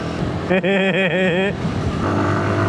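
A 2025 BSA Bantam 350 motorcycle engine held at full throttle while riding, a loud close rising drone with a warbling pitch that eases off into a lower hum and wind noise.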